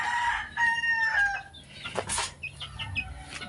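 Many chickens at a house cluck and crow together, several overlapping calls with a burst of wing flapping midway, fairly close and loud.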